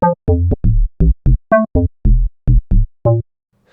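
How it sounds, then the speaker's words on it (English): An amapiano log bass synth plays low notes in a rhythmic run of about a dozen short, punchy, woody plucks, loud and dry with clear gaps between hits and no talking. "But on lower notes, it's definitely a cool bass sound."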